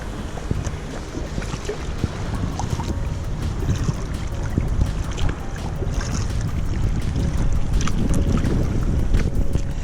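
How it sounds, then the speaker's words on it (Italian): Strong wind roars and buffets the microphone continuously, with a low rumble and splashing of water around a small inflatable kayak at sea off Livorno, Italy. "C'è il vento che ci continua a spingere verso il largo"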